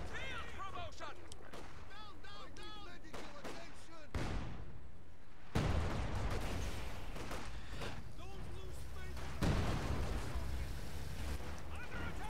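A demolition charge detonates during a Company of Heroes-style multiplayer match involving an SU-76 and a Puma, a sudden loud blast about midway, followed by further booms amid steady battlefield noise under continuous caster commentary.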